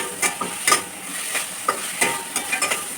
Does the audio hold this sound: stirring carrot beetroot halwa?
yes